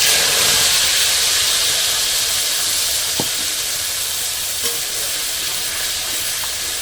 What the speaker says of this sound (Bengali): তেল গরম হয়ে গেছে শুকনো লঙ্কা আর টমেটোর পেস্টটা দিয়ে দেবো